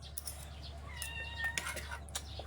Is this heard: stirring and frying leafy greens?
no